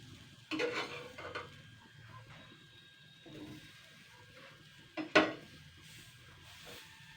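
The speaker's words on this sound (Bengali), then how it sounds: "এইভাবে উল্টে পাল্টে দেবো প্রত্যেকটা বেগুন।" Brinjal slices are turned one by one in a dry pan with no oil. Soft scrapes and clinks come at intervals, two sharper knocks stand out, and a faint sizzle sits underneath.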